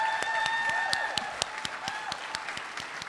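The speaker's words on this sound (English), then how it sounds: "Please give them a tremendous round of applause." Audience applause at a 2018 Deputy Governor awards ceremony for employee of the year nominees, a continuous crowd of clapping hands with some louder individual claps standing out, gradually thinning toward the end.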